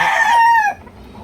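A fighting rooster lets out one loud, close crow that rises, holds and then drops off, leaving a faint hush behind it.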